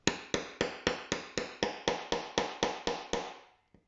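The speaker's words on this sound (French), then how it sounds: "Et attention, coup de marteau." A hammer strikes an eyelet setting tool on a cork board, crushing an eyelet with about a dozen sharp, evenly spaced taps, loud and close, ending with one faint tap.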